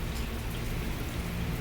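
Steady rain falls during a thunderstorm in Canadian weather, an even close hiss of drops with no thunder or voices.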